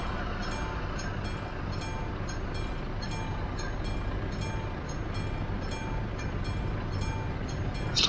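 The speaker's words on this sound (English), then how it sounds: "Is a freight train." A freight train in Euro Truck Simulator 2 rolls past, its steady rumble underpinning a regular rhythmic clatter of wheels on rail joints, loud and continuous for the whole passage with no talk.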